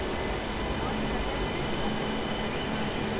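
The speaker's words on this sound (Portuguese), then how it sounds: "Vem o trem." A metro train rumbles in at a station in Porto, Portugal, with a steady broadband roar and a faint high whine, continuous and fairly loud throughout.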